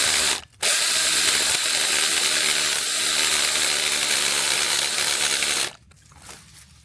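A chainsaw with a dull chain, used to cut a tree out of a fence, roars loud and steady for about five seconds after a short pause, then cuts off abruptly.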